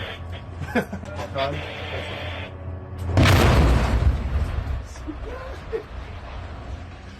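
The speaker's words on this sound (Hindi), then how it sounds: "विस्फोटक लगाकर वेपन डिपो तबाह किया।" A sudden loud, broad blast of explosives destroying a weapons depot, with a rumbling tail, standing out from an ongoing background din; a single burst followed by fading noise.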